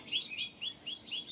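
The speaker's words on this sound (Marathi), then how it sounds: "पक्ष्यांचा किलबिलाट चालू झाला" A small bird gives a quick series of high, bright chirps, about five evenly spaced notes, clear against a quiet background.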